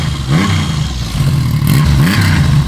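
A 1980 Yamaha XS850 motorcycle engine starting on its electric starter and idling, a steady close mechanical drone with rising and falling pitch throughout.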